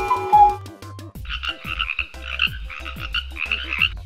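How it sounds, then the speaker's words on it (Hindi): Deep repeated frog croaks, a steady pulsing rhythm up close, with a raspy higher chirping layered over the top. "और ये वाली आवाज मेंढक की।"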